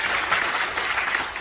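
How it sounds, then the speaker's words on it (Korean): Audience applause fills a church award ceremony, a steady, dense wash of clapping from a large crowd that holds evenly at full strength for the whole stretch. "다시 한번 박수 하시겠습니다."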